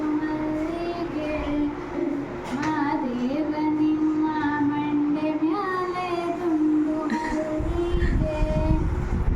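A train at Pudukkad railway station rumbles steadily at close range, with a sustained tonal drone that wavers in pitch and a heavier low rumble near the end. Voices are faintly audible in the background.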